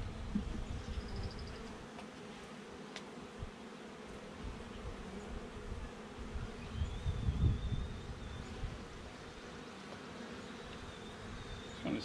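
Honey bees from newly established hive colonies buzz steadily at close range, a dense continuous hum with scattered louder passes of individual bees near the microphone.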